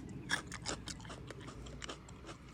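Crunchy, sweet garden-grown sugar snap peas are bitten and chewed close to the mic, giving a series of faint, crisp crunches and snaps at an irregular pace.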